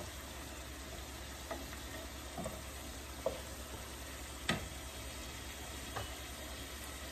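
Snakehead fish cooking down in a pan with a low, steady frying sizzle, a few soft utensil taps and scrapes scattered through it, fairly faint and without talk.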